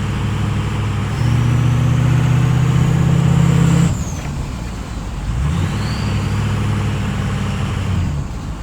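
A 6.0 diesel donor truck accelerates hard with a loud, steady engine drone, a brief drop in the middle, then the engine pulls again, heard up close from inside the cab.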